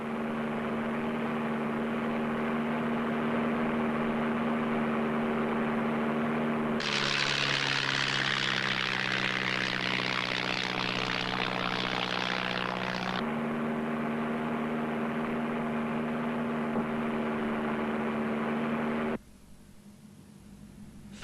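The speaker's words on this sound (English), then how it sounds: "Then a dive, controlling the aeroplane with the elevators at the back." A Tiger Moth biplane's propeller engine drones steadily, then swells into a louder, rushing roar as it dives before settling back to a constant hum, with the sound dropping away abruptly at the end.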